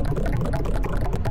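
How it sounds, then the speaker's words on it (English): Tropical house synth played in short, rapid plucked notes with a bright, bouncy rhythm, moderately loud and heard alone, with no talking. "tropical house synth, and it sounds like this."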